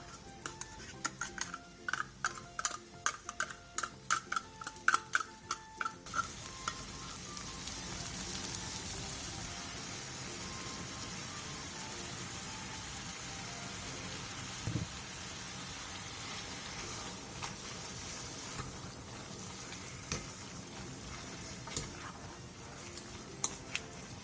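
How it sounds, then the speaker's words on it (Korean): Aged kimchi with canned tuna, sesame oil and sugar is stir-fried in a pan over medium heat; rapid clacking of a utensil against the pan comes first, then a steady, close sizzling hiss with occasional taps. "팬에 묵은지, 참기름 2스푼, 참치캔 1개, 설탕 1스푼을 넣고 김치가 숨이 죽을 때까지 중불에서 약 5분 정도 볶아주세요."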